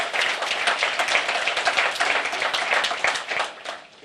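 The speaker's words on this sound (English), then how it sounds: "So we can give the House a round of applause" Crowd clapping at a public county meeting, a close, lively round of applause with individual hand claps audible, tapering off slightly at the end.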